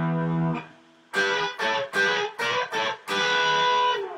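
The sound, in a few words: electric guitar playing a lick in F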